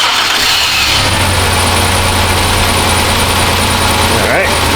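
A Chrysler Town & Country engine with a single-cylinder miss cranks and catches, then settles into a steady, slightly rough idle close by, with a low constant rumble throughout.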